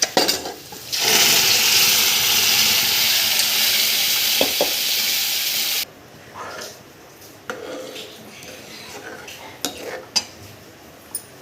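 Cooked lentils hit a hot turmeric tempering with a loud, steady sizzle for several seconds, then the hiss drops away to scattered scraping and clinks of a spoon stirring in the pot, close up.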